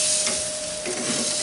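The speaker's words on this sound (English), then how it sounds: "The sizzle is a good sign." Steady, bright sizzling crackle of bacon frying on a hot Masterbuilt 560 gravity-fed grill, continuous and close, with a faint tonal hum underneath and no voices.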